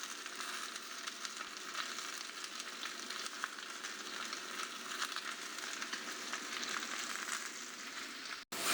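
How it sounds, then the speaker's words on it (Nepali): Carrot, capsicum, onion and beans stir-frying for chicken chowmein, a steady dense hiss of hot oil that holds evenly throughout, fairly quiet, then cuts off abruptly near the end. "हाम्रो भेजिटेबल्स लगभग स्टिर फ्राई भइसकेको छ"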